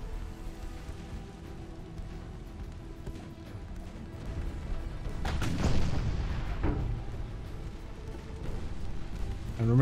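Naval gunfire in the Ultimate Admiral Dreadnoughts game as enemy escort cruisers open fire, steady rumbling battle ambience broken by one heavy booming blast mid-way and another rising at the end.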